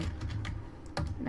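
Fast typing on a computer keyboard, a dense run of quick clicking keystrokes heard close up with no talking over it.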